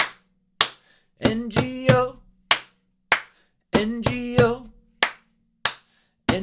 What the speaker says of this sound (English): This time we'll do two claps